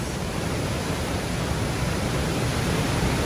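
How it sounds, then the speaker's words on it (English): Waterfall at Zapata Falls, a waterfall hidden among rocks, pouring as a loud, steady, close roar of rushing water with no voices over it. "There's 2 waterfalls."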